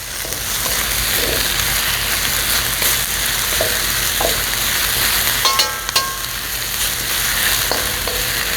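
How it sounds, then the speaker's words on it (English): Baby bok choy stir-fries with ginger and garlic in a hot pan, giving a loud, continuous sizzle with a few clanks and scrapes as it is stirred. "Always stir it. Never let it sit."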